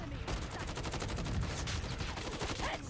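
Grau 5.56 assault rifle gunfire in COD Mobile, rapid sustained automatic bursts with evenly spaced sharp cracks running almost the whole time, close and loud, with faint game sounds underneath.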